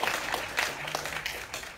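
Short burst of audience clapping at a Democratic state party panel discussion, a scattered mass of hands at moderate loudness, fading slightly toward the end with no speech over it.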